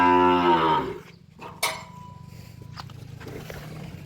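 A buffalo lets out one loud, deep, drawn-out moo up close, then it goes quiet except for a low background hum.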